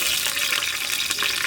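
Green chillies and a handful of mint frying in hot sesame oil as a tempering for a goat head and trotter curry, giving a steady, close, crackling sizzle with no speech throughout.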